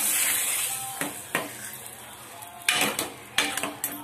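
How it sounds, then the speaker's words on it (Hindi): Hot tempering poured into dal khichdi in a home kitchen, giving a steady background sizzle broken by several sharp clanks of a pan and utensils, fairly close and with no talking. "छौंक लगा दिए।"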